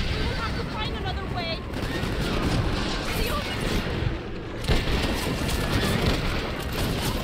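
Sustained rattling machine gun fire from the western video game Red Dead Redemption, a dense, loud barrage of shots running continuously with booming impacts, with a voice talking over it.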